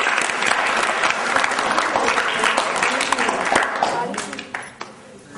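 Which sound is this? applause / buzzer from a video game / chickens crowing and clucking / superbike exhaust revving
applause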